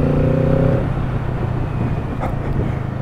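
Kawasaki Z650 two-cylinder 649 cc motorcycle engine and exhaust, a close, loud burbling drone that briefly holds a steady tone before settling into a lower rumble, with no talk.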